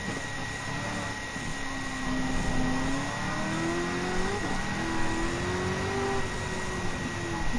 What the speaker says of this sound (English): Almost there to catch up on Ben Denny in the Corvette CR1 4th generation 1989